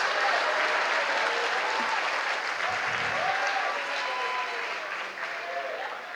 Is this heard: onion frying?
no